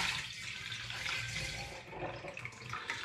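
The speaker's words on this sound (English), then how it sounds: "I'm going to pour it through this funnel into this demijohn." Blackcurrant juice pours through a funnel into a glass demijohn in a soft, gurgling, uneven trickle. It is quiet and close, with no talk.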